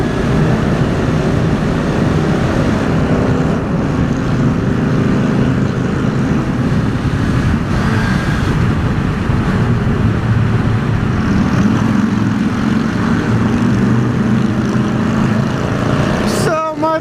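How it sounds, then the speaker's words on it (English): A Harley-Davidson motorcycle with an extremely loud exhaust rumbles steadily nearby for the whole stretch, a thick, continuous engine roar that stays dominant and never fades. "There is such a thing as a too loud exhaust, and that one has it."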